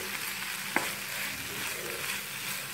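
Fish stirred into a sizzling masala in a pan, Kannur style, a steady close frying hiss with one sharp utensil clink early on and soft stirring scrapes.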